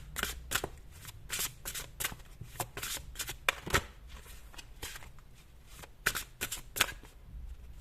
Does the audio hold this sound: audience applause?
no